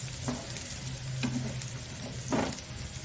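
Onion frying in a pan while being stirred for palak paneer, a steady close sizzle with a few scraping stirs of the spoon, no talking.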